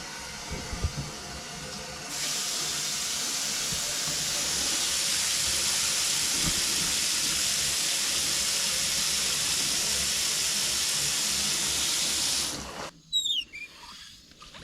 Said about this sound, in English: I hear some air bleed out of it